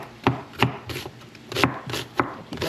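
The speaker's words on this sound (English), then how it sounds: "I'm cutting this onion up." A knife chops an onion on a cutting board while pumpkin rice with vegetables and chicken is being made, with steady close thuds about three per second and no talk.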